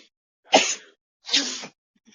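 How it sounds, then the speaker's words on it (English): A person sneezes twice in quick succession, two loud, close, breathy bursts a moment apart, with near silence around them and no talking. "Hold on, I gotta sneeze."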